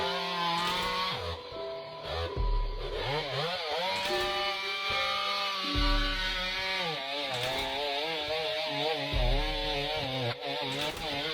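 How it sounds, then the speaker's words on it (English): Big chainsaw felling a large tree in a forest, a loud continuous engine drone with the pitch repeatedly rising and falling as the throttle surges and the cut bites, sustained throughout with no talking. "This colossal tree pruning machine defies the forces of nature, swiftly cutting down trees and reshaping the surrounding forest"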